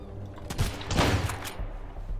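Shotgun blasts ring out in the survival game Sunkenland, several sharp loud reports in quick succession with a rumbling low boom around them.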